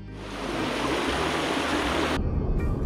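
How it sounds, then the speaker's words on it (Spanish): Crystal-clear water of the Jordán river rushes and falls along a trail in a park in Fusagasugá, Cundinamarca, a loud steady close-up hiss of flowing water that continues without pause. "Es relajante escuchar la caída de agua de este cristalino río durante todo el sendero"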